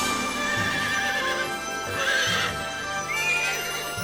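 A cartoon pony whinnies in repeated high neighs over a steady clip-clop of hooves, the calls rising and falling in bursts against the rhythmic trotting, with no talk.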